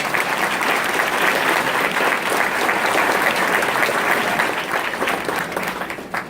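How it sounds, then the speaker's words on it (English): At an elementary honor society induction ceremony, an audience gives the advisory council a sustained round of applause: thick, continuous clapping from many hands, steady and loud throughout before easing slightly at the close, with no voices. "So if I could have a round of applause for the advisory council."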